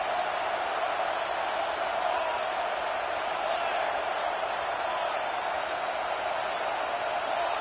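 Stadium crowd roar in a college football video game during a third-down red zone play, a steady, dense wall of cheering and noise that stays loud throughout with no break.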